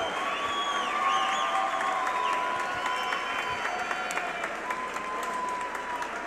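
A crowd at a live fight night event applauds and cheers for both fighters, a steady wash of clapping with scattered shouts, moderately distant and sustained throughout.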